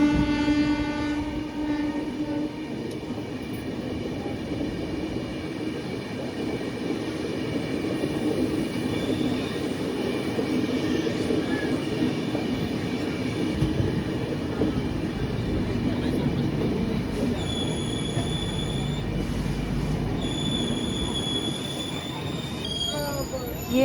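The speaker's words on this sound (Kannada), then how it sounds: "ನಾವೀಗ ಬಸವ ಎಕ್ಸ್ಪ್ರೆಸ್ನ ಓವರ್ಟೇಕ್ ಮಾಡಿ ಹೋಗ್ತಾ ಇದ್ದೀವಿ ನೋಡಿ" Express train runs steadily past Malleswaram near Bengaluru while overtaking the Basava Express, with a constant loud rumble of wheels on rails, high squealing tones and horn-like pitched notes near the end, faint voices underneath.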